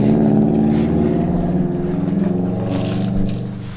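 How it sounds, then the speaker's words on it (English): A running Subaru car engine, apparently sounding a little off, idles with a steady low rumble and a fast, even pulsing throb, close and loud, easing off slightly near the end. "His Subaru sounds a little weird."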